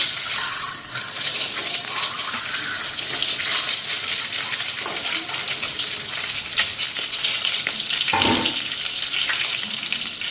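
Eggs frying in a pan on a stove, a bright continuous hiss and crackle of sizzling oil with a few bumps and clatters, close and steady throughout without speech.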